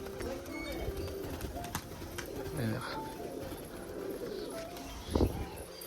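Crested pigeons coo in low, soft bursts amid steady background noise and occasional rustling, with one louder coo near the end.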